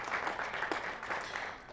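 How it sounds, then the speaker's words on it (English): A short burst of audience applause, a moderate patter of many hands clapping at once, steady and fairly soft throughout the brief moment. "we're going to have to give him a round of applause when he comes"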